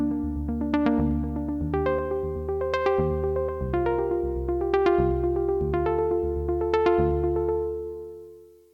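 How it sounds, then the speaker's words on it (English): Clean rock guitar 3 preset in Cubase playing a sequence of plucked chords and notes, each ringing and decaying, clear and close with no talk. "So I think I'm going to go with this clean rock guitar 3."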